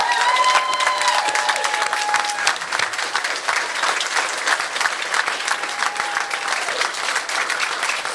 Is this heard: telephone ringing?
no